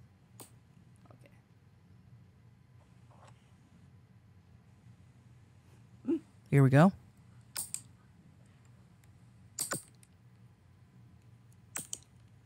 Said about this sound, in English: It's me cutting my toenails.